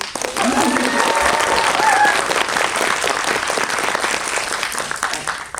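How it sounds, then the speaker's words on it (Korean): A crowd at a film screening talk breaks into steady, full applause that holds for several seconds, with some voices audible beneath it. "그거 원하시면 박수."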